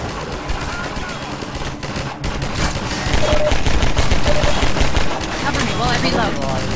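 Rapid gunfire from the player's weapon in Half-Life 2 Synergy, a dense continuous stream of close, loud shots with a brief lull before it resumes, mixed with game sounds and voices.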